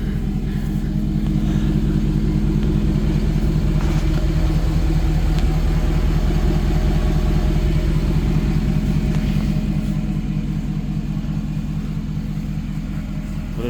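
A 2012 Ford F550 6.7 Powerstroke 4x4 crew cab diesel fitted with a muffler idles close by, a loud, steady low rumble with a regular chugging pulse that holds throughout, easing off slightly near the end.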